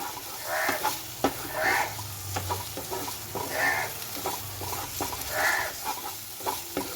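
Cabbage leaf and bean mash stirred in a pan over medium flame, a spatula scraping in a steady repeating rhythm over a soft constant sizzle, close by with no talking.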